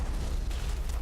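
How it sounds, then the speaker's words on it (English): A grenade explodes in the Mass Effect video game, filling the moment with a dense, loud, rumbling roar of noise that stays steady from start to finish. "I'm trying to throw a grenade."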